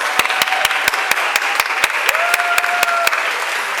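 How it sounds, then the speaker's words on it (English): Applause at an eighth grade graduation ceremony: a steady run of evenly spaced, crisp claps from the audience, fairly close, with a faint tone in the background. "let's give a round of applause for Mrs. Etra, who's sitting here."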